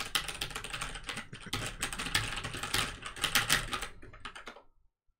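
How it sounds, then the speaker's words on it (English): Fast, dense typing on a computer keyboard during a livestream, a continuous clatter of close keystrokes that cuts off abruptly near the end. "anyone loving the way I'm typing?"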